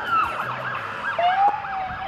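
Police car and ambulance sirens wail around a shopping mall, several overlapping rising and falling tones, fairly loud and continuous with traffic rumble beneath and no talk.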